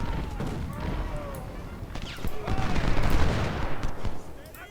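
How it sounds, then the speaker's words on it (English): Heavy Civil War artillery and musketry roar continuously in Ultimate General: Civil War at the Battle of Fredericksburg, dense overlapping booms and crackling volleys swelling louder midway, with someone talking over the din. "And heavy artillery fire is opening up."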